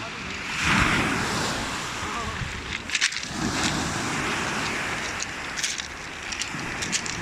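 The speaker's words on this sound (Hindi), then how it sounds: "कैसे लहरें आ रही हैं समंदर की, देखो माशाल्लाह।" Sea waves roll onto the coast of Lebanon in a continuous loud surf wash, with gusty wind buffeting the microphone and a few brief crackling bursts.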